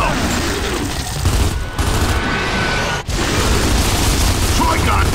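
Gears of War 2 battle gunfire, a dense, loud, continuous barrage of shots and booms with voices talking underneath.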